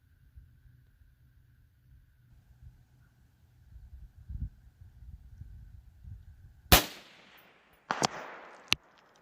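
A .22 WMR Rossi RS22M rimfire rifle fires at long range on a quiet range, giving one sharp loud crack followed by two more quick reports, with low background rumble beforehand.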